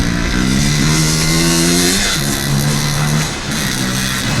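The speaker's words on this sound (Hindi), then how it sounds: "बाइक की आवाज" Motorbike engine droning steadily and loudly up close, with shifting pitch as it revs, dipping briefly near the end before carrying on.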